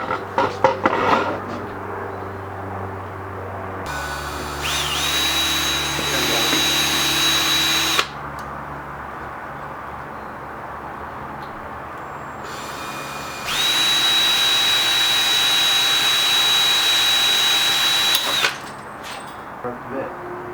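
While working on a homemade go-kart, a power drill bores a hole in two long high-pitched whining runs, each lasting several seconds, with clunks and handling noise between them and a voice speaking near the start.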